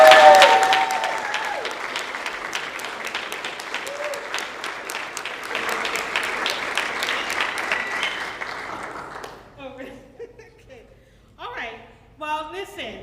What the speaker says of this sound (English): let's give a round of applause to everyone.